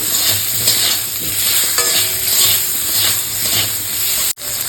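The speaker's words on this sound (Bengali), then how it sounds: "আমটাকে এপিট ওপিট করে গরম তেলে ভেজে নেব" Raw mango slices dusted with salt and turmeric frying in hot oil, a loud, close, steady sizzle and hiss with gentle pulsing swells, cut briefly by a sudden drop near the end.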